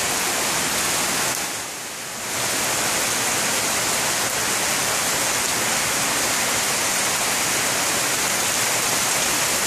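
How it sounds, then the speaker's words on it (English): Heavy rain pours steadily in a dense, loud hiss in Belize, with a brief dip in intensity early on before the downpour resumes at full strength. "It's raining a lot."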